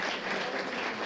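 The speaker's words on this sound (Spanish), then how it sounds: "Un fuerte aplauso al Señor por la vida de nuestros" Dense, steady applause from a church congregation fills the space without a break, loud and close, cheering for the Lord at a Sunday service.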